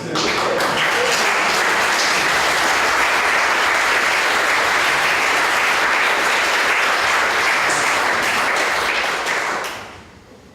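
Sustained, dense applause from a French conference audience for a magic-themed talk, loud and steady for about ten seconds before fading out at the end.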